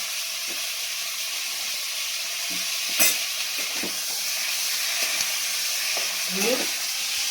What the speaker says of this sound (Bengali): ক্যাঁকড়াগুলো আমি পরপর সাজিয়ে দেবো, দিয়ে কি করবো ভেজে নেবো